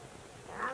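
A young girl in a Himalayan village home imitates a cat's meow with her voice, a brief, quiet, rising call at the end of an otherwise hushed moment.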